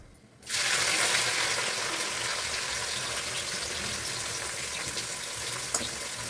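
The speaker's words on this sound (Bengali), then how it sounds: "পেঁয়াজ কুচিগুলো দিয়ে এবার একটু ভালো করে ভেজে নেবো পেঁয়াজগুলো" Chopped onions tipped into a pan for a Bengali chicken curry, fried with chillies; after a brief quiet start a loud, dense sizzle surges in and holds steady, close and without talk.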